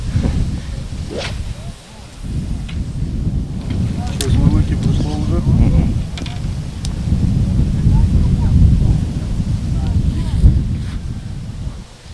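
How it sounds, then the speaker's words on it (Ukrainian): Wind buffets the microphone in a continuous low rumble, rising and falling in gusts, with faint splashes and knocks in the background at a feeder fishing championship. "Трошки заважає вітер, а так все добре."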